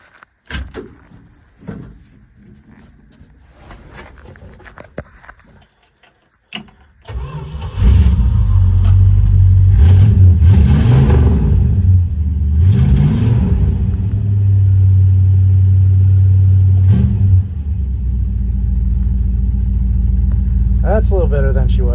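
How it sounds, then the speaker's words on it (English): Engine of a 1964 Plymouth Valiant cranks and catches after a carburetor rebuild, settling into a loud, steady idle close by with a few revs, preceded by quieter handling noises and clanks. "Let's see how it starts and runs now."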